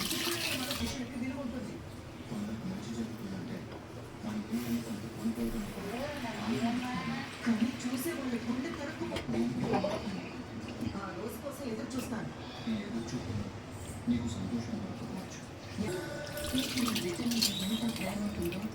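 Water pours and splashes into a pot of fish curry (chepala pulusu) on the stove, a continuous trickling under steady talk.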